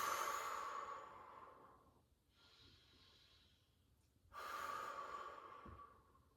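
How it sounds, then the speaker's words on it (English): Long, airy breaths during a gentle floor meditation and movement session, a drawn-out exhale fading, a quiet pause with a softer breath, then another deep breath rising, close and soft. "Long breath out."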